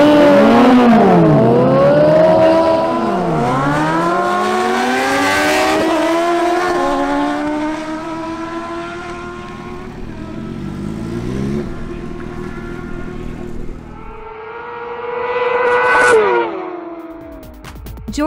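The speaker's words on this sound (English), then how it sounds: "Now we have a duel between Wilson Penso's Honda CBR1000RR and George Carlini's Kawasaki Ninja ZX10R." A Honda CBR1000RR and a Kawasaki Ninja ZX10R drag race, their engines revving loud and close with rising pitch sweeps through repeated gear shifts before fading, then one more rev near the end.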